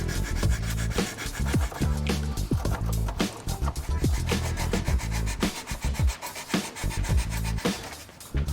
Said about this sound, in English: Cut the black plastic strip off